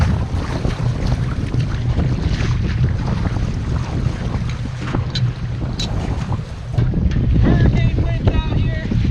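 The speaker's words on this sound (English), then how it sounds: "Hurricane winds out here." Strong wind buffets a bass fishing boat on open water, a steady loud roar of gusts and microphone rumble with water slapping, growing stronger near the end.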